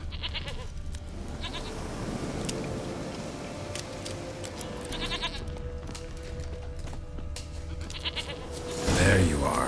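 A goat in The Witcher 3 video game bleats in short wavering calls repeated several times over a constant game ambience, with a voice speaking in between.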